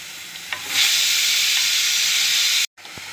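Steady loud sizzling of tomatoes and onion sautéing in a pan, with a stirring scrape early on, cutting out abruptly near the end.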